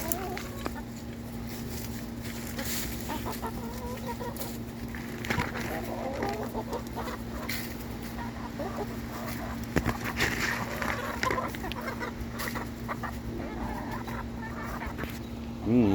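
Backyard free-range chickens clucking and murmuring close by while being fed Swiss chard, broccoli and other greens, a continuous busy flock chatter with occasional louder calls.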